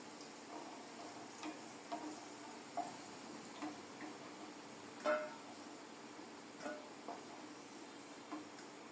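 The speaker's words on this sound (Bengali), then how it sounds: "প্রথমে আলুগুলো ভেজে নিয়েছি, এখন কাঁকরোল ভেজে নেব।" Teasel gourd (kakrol) pieces frying in oil in a pan, a faint steady sizzle broken by irregular small pops and ticks, close and quiet, no talking.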